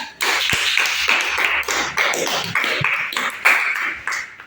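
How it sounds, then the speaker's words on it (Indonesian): Indoor classroom applause for a student group: a burst of many hands clapping at once, sharp and fairly close, running steadily for several seconds. "Berikan tepuk tangan untuk kelompok 3."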